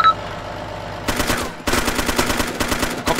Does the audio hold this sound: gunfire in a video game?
yes